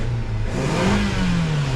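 Nissan Sentra engine freshly fitted with new spark plugs, idling close by and then revving up once in a smooth rising surge that holds high and loud.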